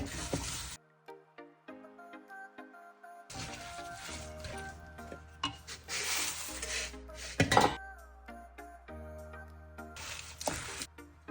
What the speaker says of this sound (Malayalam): ചെറു ചൂടോടെ നമുക്ക് അവലിട്ട് ഇളക്കാം.